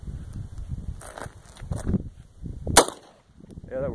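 A C96 Mauser pistol fires at tin cans outdoors, giving one sharp, loud crack with a bright metallic snap amid rustling and faint movement noises.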